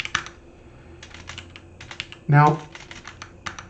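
Typing on a computer keyboard during IPv6 configuration, with clusters of rapid key clicks spread throughout, close and moderately loud, and a brief spoken word partway through.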